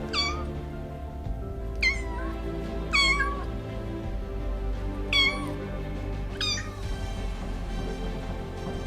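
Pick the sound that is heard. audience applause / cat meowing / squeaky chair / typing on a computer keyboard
cat meowing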